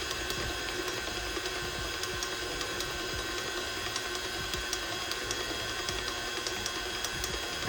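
A stand mixer running on speed 2 kneads sourdough bread dough with a steady, continuous mechanical whir and regular ticking and clicking. The sound is close and unbroken, and no one talks.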